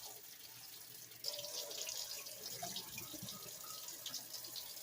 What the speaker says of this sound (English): I'm going to rinse it out